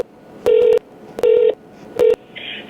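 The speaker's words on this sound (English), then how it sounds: "Wait while I connect your call." Telephone dialing tones sound as a call is connected: three loud, evenly spaced DTMF beeps, close and clean, followed by a faint rising tone.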